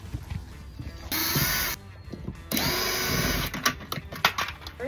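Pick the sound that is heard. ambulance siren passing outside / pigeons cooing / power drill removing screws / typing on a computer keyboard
power drill removing screws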